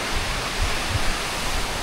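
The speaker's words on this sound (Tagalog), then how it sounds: "pabugso-bugso bigla yung hangin na lumalakas" Gusty typhoon wind roars across an island as a dense, steady rushing noise with heavy low rumble, rising in brief surges, with no voices.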